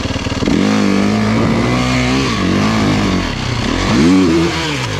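An enduro motorcycle engine revs up and down close by, its pitch rising and falling in loud, buzzing bursts.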